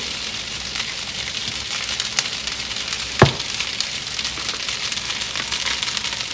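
Two cups of cooked white rice hit a hot pan while cooking Filipino-style, giving a steady, close, broadband sizzle with a brief sharp crackle near the middle and no voices.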